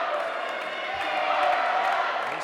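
A crowd at an indoor cricket final, Australia versus New Zealand, keeps up a steady, loud murmur of excited voices while a commentator talks over it.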